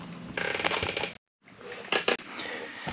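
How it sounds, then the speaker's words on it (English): Royal Enfield Continental GT engine cranked over by hand during a big-bore rebuild, with close mechanical clicking and ratcheting in two short bursts and a brief silent gap between them. "So now I'm going to crank this over until the next bolt is on top and take that one out."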